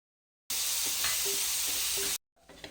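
Sugar and a fresh coconut filling mixture sizzle steadily in a pan as they are sautéed, a loud continuous hiss that cuts off abruptly, then faint stirring noises.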